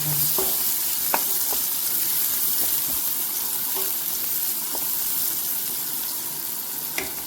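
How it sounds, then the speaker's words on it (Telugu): Onion and cumin seeds fry in a pan with a steady, close sizzle, broken by a few sharp spatula scrapes and clicks. "ఇంట్లో కొన్ని ఆనియన్, జీలకర్ర, ఇవి మంచిగా ఫ్రై అవ్వాలి."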